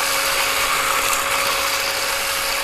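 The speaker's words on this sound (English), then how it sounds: "this Ryobi spreader spreads very far" A Ryobi spreader throws lawn fertilizer in early spring, giving a loud, steady, close motor whir with a hiss of scattering granules and a faint tonal hum, unbroken and without talk.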